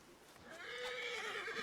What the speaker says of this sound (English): those are horses over there